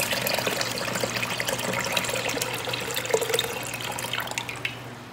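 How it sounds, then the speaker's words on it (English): Water pours steadily into an Instant Pot around a glass jar, a continuous close splashing trickle with small drips near the end. "we're gonna take our water and we're gonna fill this up along the outside, like halfway up the jar."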